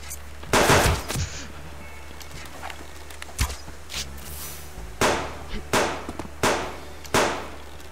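Shotgun blasts in the survival video game Subsistence boom out several times: a heavy pair of shots early, another alone in the middle, then three sharp reports in quick succession near the end, each loud and close against a low ambient hum.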